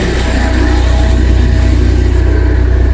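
A tractor engine running nearby outdoors, a loud steady low rumble with a constant throbbing chug, heard alone without voices.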